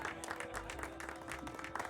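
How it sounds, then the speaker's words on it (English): Applause in a video game during a small-town Summertide celebration, a steady crowd clapping throughout with a low background tone underneath. "Let's get a round of applause for Tara Wylde, our Summertide star."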